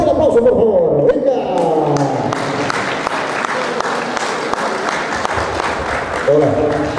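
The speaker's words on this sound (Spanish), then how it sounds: "¡Fuerte el aplauso, por favor!" Guests at a baptism party applaud loudly as the host is called up, with dense crowd clapping that starts under a voice, runs for several seconds and gives way to talk again.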